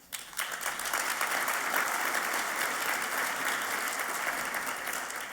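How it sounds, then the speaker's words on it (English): Audience clapping for a governor's announcement of a statewide economic development strategy, a sustained burst of applause that swells right after the start and holds steady, fairly loud, with no talk. "Everybody's clapping"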